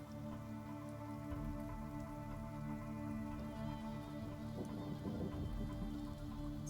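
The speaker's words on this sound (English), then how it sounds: "Still raining." Steady rain falls with a dense, even patter close by, a continuous soft wash with no voices.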